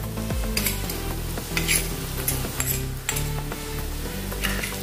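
A spoon scrapes and clatters against a frying pan while spices for a palak mooli curry are stirred, with steady sizzling underneath and rhythmic metallic knocks throughout.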